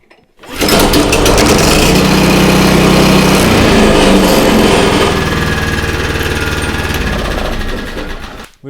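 An engine is started with the choke on, catching quickly and running at a loud, steady, buzzing roar that lasts for several seconds before it tapers off.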